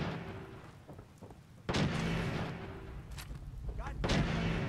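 Gunfire in the video game Fallout 4 in the Concord area, sharp booming shots cracking out at intervals over a rumbling background, with a voice talking at times.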